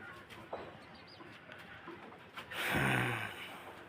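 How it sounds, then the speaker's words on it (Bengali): Pigeons kept loose around a farm give a soft, low coo, loudest near the end, over faint background noise with a few scattered bird sounds earlier. "এখানে এই 3টি কবুতর আছে।"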